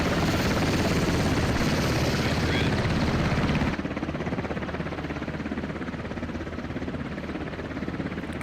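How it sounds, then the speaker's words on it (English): A helicopter in the video game MARS: Scarlet Storm Rising roars close by with a loud, steady rotor thump, then the sound drops and dulls as it banks into a hard right turn and pulls away. "here comes Phoenix with the helicopter taking a hard right turn"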